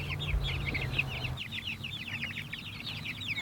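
Hens in a chicken tractor peck at fresh grass, clucking in a busy, overlapping chatter of short calls, soft and close, over a low outdoor hum.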